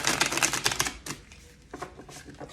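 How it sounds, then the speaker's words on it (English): A tarot card deck is shuffled by hand in quick rapid riffles, a dense burst of crisp papery clicks followed by a pause and a softer second flurry, close and fairly quiet with no talking. "One more shuffle."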